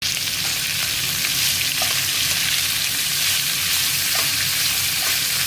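Steady, loud sizzling of shredded cabbage frying in hot oil with a tempering of curry leaves, continuous throughout with a few faint clinks of stirring.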